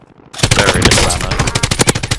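Rapid automatic gunfire from a battle royale video game, loud and close, a dense rattling burst of shots with a sharp attack after a brief quiet start.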